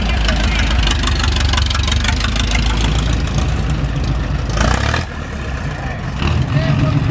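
A Velie vintage car engine idles with a steady low rumble and faint knocking, loud and continuous, with voices talking over it and a brief shift in tone near the end.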